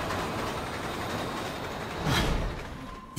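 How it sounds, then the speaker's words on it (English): A train rushes by inside the video game Resident Evil 6. A constant rolling rail roar builds into a brief, louder whoosh partway through before fading, with no voices. "Look out! Train!"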